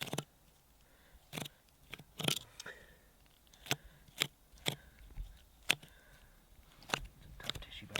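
Knife slicing deer loin muscle away from the bone while boning out a field-dressed deer, heard as a run of sharp, close clicks and snips spaced irregularly over quiet background.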